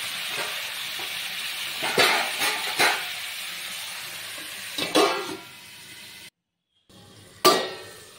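Vegetables with Malabar spinach and spices fry in a covered pan, giving a continuous sizzle broken by a few sharp stirring scrapes and clinks of a utensil, with a brief pause of near silence before the sizzling resumes.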